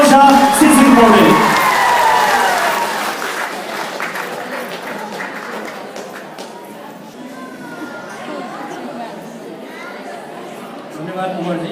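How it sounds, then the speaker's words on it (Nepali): An audience at a live Nepali stage show applauds loudly at first, with cheers and chatter mixed in. The clapping fades over a few seconds into a quieter murmur of crowd noise. "सम्पूर्ण आदरणीय दर्शक महानुभावहरूले ताली बजाइदिनुको लागि म हार्दिक अनुरोध गर्दछु"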